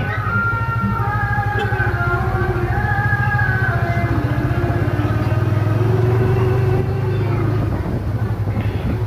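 A vehicle engine hums steadily and loudly up close while moving to a new parking spot, a constant low drone with a slight rise in pitch partway through, lasting about nine seconds.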